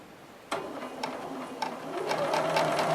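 A sewing machine stitches a quarter-circle curve into a grid-design quilt, its steady mechanical whir running close and continuous after starting abruptly, with a few sharp clicks and the pace picking up toward the end.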